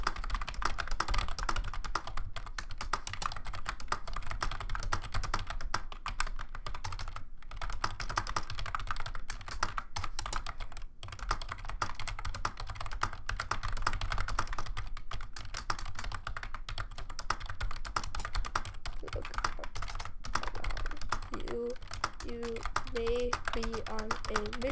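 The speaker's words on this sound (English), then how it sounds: "Today we're going to be playing on typeracer.com and seeing how fast I can type" Fast typing on a computer keyboard during a typeracer.com race, a dense, continuous clatter of rapid keystrokes with brief pauses, close and steady, with a low hum and a faint tonal sound near the end.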